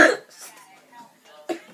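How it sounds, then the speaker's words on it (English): One sharp cough at the start, followed by softer throat noises and a second small cough burst near the end, close and indoors. "I just need a cough real quick."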